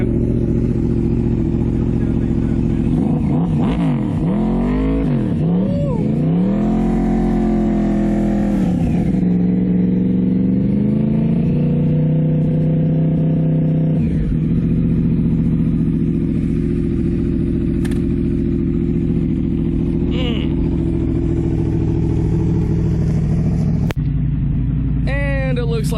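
An ECU flash-tuned 2009 Yamaha R1 motorcycle engine revs loudly and close, rising and falling in repeated sweeping blips before settling into a steady idle, with people talking over it throughout.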